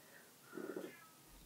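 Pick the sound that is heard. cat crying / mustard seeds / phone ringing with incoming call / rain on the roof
cat crying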